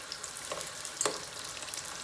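Brick pastries filled with goat cheese and honey fry in hot oil, making a steady, close sizzle with faint crackles and one brief clink partway through.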